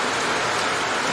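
Heavy monsoon rain pours down steadily in a rural village, a dense, continuous hiss of drops hitting surfaces close by, loud and unbroken with no other sounds.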